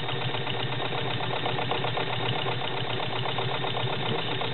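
A serviced vintage Kenmore model 27 low-shank straight stitch sewing machine, a Class 15 clone, runs steadily through six layers of cotton, giving a continuous even mechanical hum with a fast regular stitching rhythm, close and alone.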